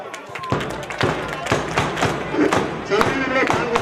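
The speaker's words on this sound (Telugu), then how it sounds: "పిల్లలు క్లాప్స్." Schoolchildren clap together at a school event, producing a loud rhythmic run of dull handclap thuds at roughly half-second intervals, with voices in the background.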